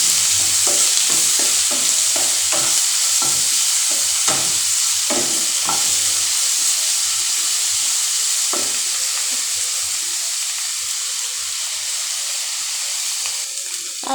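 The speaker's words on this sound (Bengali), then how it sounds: "তারপর এর মধ্যে আদা রসুন বাটা দিয়ে দিলাম 1 চামচ" Chopped tomato and ginger garlic paste sizzle and fry in a hot pan while being stirred, a steady close hiss with scraping stir strokes early on, continuing alone throughout.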